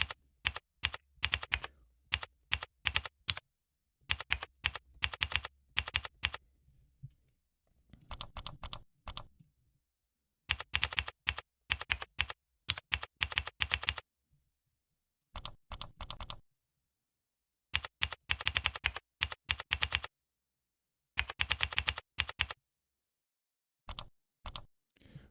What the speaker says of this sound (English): Just gonna write these items here